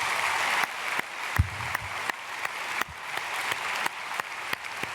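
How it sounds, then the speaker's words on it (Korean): A Korean church congregation claps to welcome newly registered members during a Sunday worship service, producing a steady wash of many hands clapping in a large room with a few louder individual claps standing out. "우리 크게 박수로 환영하겠습니다"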